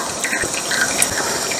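A steady rush of air hisses and gushes continuously as air is blown through a car engine during an engine oil drain, like pressurized air escaping, close and moderately loud.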